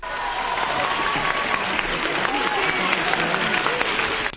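A theatre audience applauds a film after the screening, a dense, continuous clapping from a full room with some murmuring voices mixed in, sustained for several seconds.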